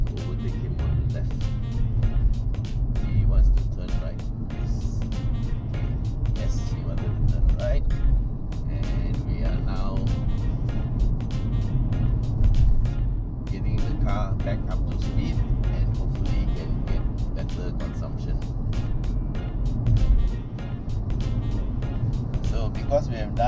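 Audi A5 Sportback moving slowly through city traffic, a steady low engine and road rumble running throughout, with people talking over it inside the cabin.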